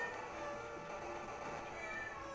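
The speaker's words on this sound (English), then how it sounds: "what sounds like a very upset cat" In StarTropics 2, a video game, an upset cat meows and wails faintly and continuously, buried in a busy bed of game music and effects.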